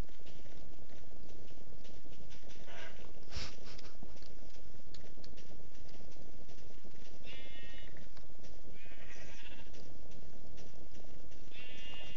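Sheep bleating in a Minecraft farm, several short bleats scattered across a continuous noisy game background with bubbling sounds, fairly loud and steady throughout.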